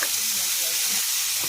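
Onions and tomatoes frying in a pan, a steady dense sizzle that holds even and loud throughout, close up.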